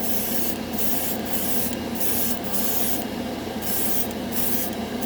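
Steady hissing bursts of Mission Model chrome paint spraying a final gloss coat from an airbrush, several short pulses separated by brief pauses over constant close background noise.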